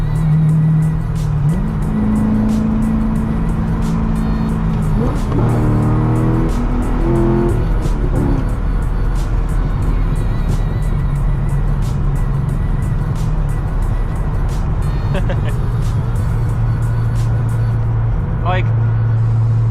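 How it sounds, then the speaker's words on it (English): Cammed LS7 V8 with long tube headers in a C6 Corvette Z06 drones loudly from inside the car, revving up and shifting through gears with a deep, steady rumble while someone talks over it. "no better sounding engine than a cammed LS7 with long tube headers"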